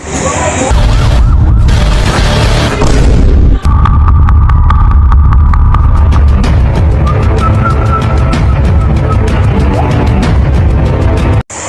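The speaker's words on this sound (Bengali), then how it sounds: "শুধু হর্ন বাজাচ্ছে, মনে হচ্ছে পুলিশ" A loud police car siren wails over heavy traffic rumble and clatter, with a steady horn-like tone sounding close by for several seconds.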